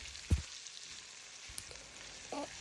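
Potatoes frying in a pan, a soft, steady sizzle with a few faint clinks and taps against the pan, quiet and close.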